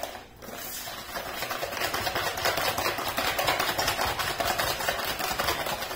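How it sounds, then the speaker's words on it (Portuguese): Cake batter for a Neapolitan layer cake, tinted with strawberry, being stirred steadily in a bowl; a close, continuous scraping and churning that runs evenly with no talk over it. "E agora eu vou mexer bem."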